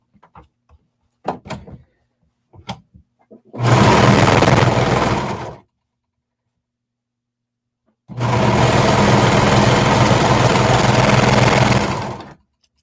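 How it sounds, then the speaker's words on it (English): Sewing machine stitching a 3/8-inch seam on stretch leggings fabric, two sustained bursts of steady, close motor whir of about two seconds and four seconds, preceded by a few light clicks and handling knocks. "So using 3/8" seam allowance, we're just going to sew along that portion."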